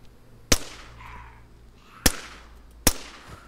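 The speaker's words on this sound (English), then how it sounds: "I hear a shot." Gunfire in a shooter video game: three sharp, loud single shots spaced irregularly over a few seconds against a low steady background hum.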